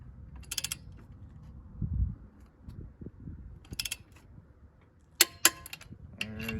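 A torque wrench tightens lug nuts on a first-generation Nissan Xterra truck wheel to 98 foot-pounds in a star pattern, giving several separate sharp mechanical clicks with quiet gaps and faint low knocks between them.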